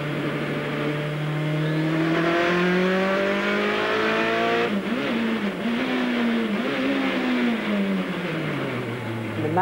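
A fast race car driving past and away, its engine a steady, sustained high drone with rising and falling pitch sweeps as it shifts and changes speed, loud and close throughout, with no voices.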